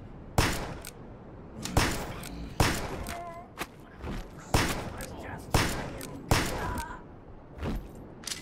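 Loud gunshots ring out in a dark stealth horror game, about seven sharp blasts spaced roughly a second apart, each with a decaying tail and occasional grunts between shots.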